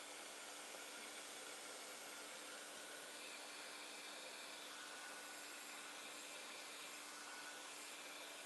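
A heat embossing tool blows hot air over alcohol ink on a card background, a faint, steady, even hiss-like whir that continues without talk.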